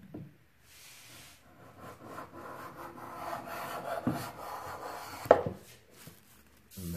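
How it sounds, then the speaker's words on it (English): A hand plane shaves thin curls from wooden rib blanks for a theorbo, giving soft rasping strokes with a few sharper knocks. The sound is close and moderately quiet, with no voices. "Starting to get shavings there."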